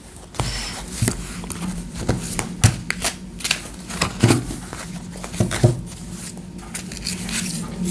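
Fairy oracle cards are shuffled and drawn by hand, with close, soft papery riffles, flicks and taps repeating in quick bursts and no talking.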